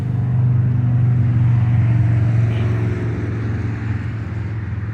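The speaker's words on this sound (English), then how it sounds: "got some Harleys rolling down the road" Harley motorcycles rolling down the road, a loud, steady low engine rumble with deep throbbing exhaust tone, sustained and close without a clear pass-by fade.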